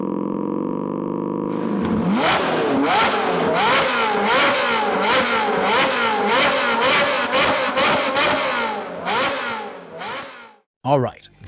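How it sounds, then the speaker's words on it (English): Flat-plane V8 engine running on its most common firing order, revving repeatedly in sharp rising and falling bursts, loud and close, then cutting off near the end. "The Flatplane V8 engine has a variety of firing orders, and we'll present an example of the sound from the most commonly used firing order."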